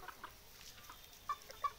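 A free-range desi flock of about 120 birds, some 40 roosters among the hens, gives a few faint, scattered clucks at dusk, two sharper ones near the end over a quiet yard.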